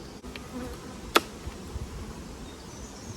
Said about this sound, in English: But a lot more bees in this one.